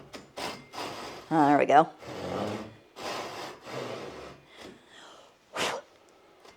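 A Japanese pull saw cuts through wood in a string of rhythmic rasping strokes, some short and some longer, close by, with a person briefly speaking between the strokes.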